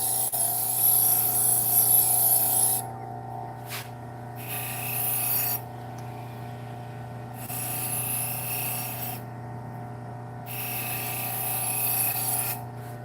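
A knife edge drawn back and forth across a leather strop after sharpening, giving soft rasping strokes in repeated bursts over a steady background hum, close and moderately loud.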